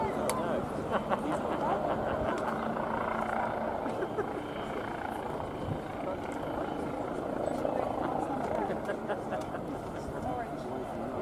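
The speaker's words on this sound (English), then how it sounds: "Twin-engined helicopter, two 460 horsepower Allison 250 turbo shafts" An aerobatic twin-engined helicopter with two 460-horsepower Allison 250 turboshafts drones steadily overhead at RNAS Yeovilton air day, its rotor hum filling the background while a voice talks over it.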